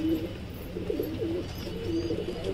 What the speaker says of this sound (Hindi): ये देखिए हमारे कबूतर।